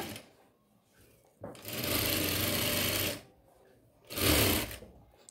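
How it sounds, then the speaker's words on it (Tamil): A sewing machine stitches the lining of a chudithar top up close. Two loud, even mechanical bursts are heard, the first running about a second and a half and the second shorter, with quiet pauses around them. "இப்போ நம்ம ஒரு கால் இன்ச் வித்தியாசத்தில் ஸ்டிச் பண்ண ஆரம்பிச்சுக்கலாம்"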